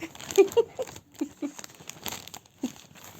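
Soft plastic bag crinkling in short bursts, close by, with brief pauses between the rustles and faint voice-like sounds mixed in.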